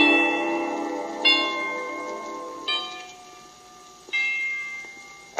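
Orchestral chimes struck four times at slow, even intervals, each tubular bell stroke ringing out bright and long before fading under the next, on a 1940s children's orchestra recording.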